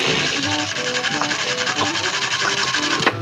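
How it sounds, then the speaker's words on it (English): A cartoon toothbrush sound effect: a steady wet scrubbing rasp, continuous and close, with bristly back-and-forth texture and a few faint tonal blips underneath, ending with a short sharp scrape. "This is the sound of Miss Shush brushing her teeth on Wednesdays."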